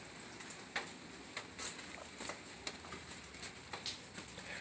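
Rain patters lightly across a garden on a cold morning, a soft steady hiss with scattered sharper drops landing nearby and a faint bird call in the background.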